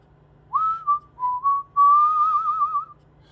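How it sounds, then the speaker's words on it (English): A person whistles a short, wavering tune, a few clear notes followed by one long warbling note, close and alone in a quiet workshop during a carburetor overhaul. "Sorry about my whistling."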